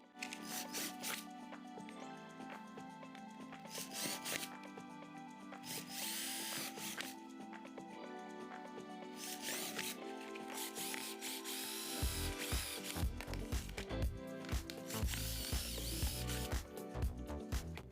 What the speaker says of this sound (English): take the lid from a bucket and make several holes in it